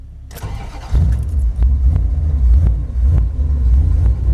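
A Mopar 440 drag truck engine cranks briefly, catches and roars to life, then settles into a loud, lumpy rumbling idle with a few sharp pops, close up and with no talk.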